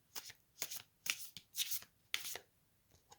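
Oracle cards from the Ofrenda Oracle deck being shuffled overhand, six crisp riffling bursts spaced in a quick, even rhythm, close and fairly quiet with no talking.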